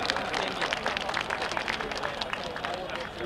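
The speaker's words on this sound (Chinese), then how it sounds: "大家再次掌声欢迎我们的 Fremont Taiwan School 最后的一段表演" An audience at a Taiwanese American cultural festival stage claps in a dense, continuous burst of applause, with crowd murmur mixed in.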